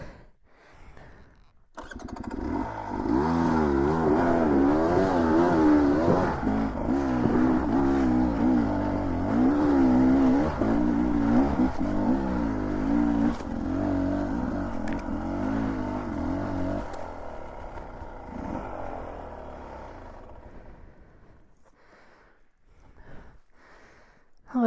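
An overheated dirt bike engine on a mountain trail near Steven's Peak, Wallace, Idaho, starts up and runs with uneven revving for about fifteen seconds, then dies away into quiet.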